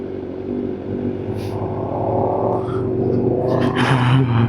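Motorcycles roll past on a road, their engines building from a moderate hum to a louder, closer drone over a few seconds, with traffic noise around and no talk.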